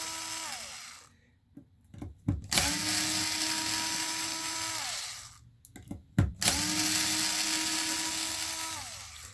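A power drill fitted with long quarter-inch bits whines in two sustained bursts while backing out screws from a Traxxas Maxx 4S RC truck, each burst ramping in pitch with clicks and rattles between runs.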